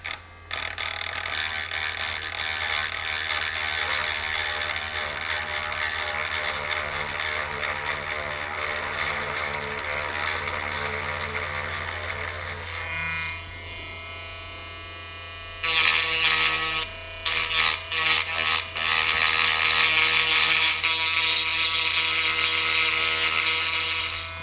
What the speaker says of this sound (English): we're going to use this battery powered rotary tool fitted with this diamond milling bit to sort of level out this plastic